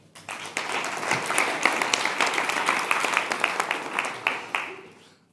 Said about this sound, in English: Give Frank a big applause.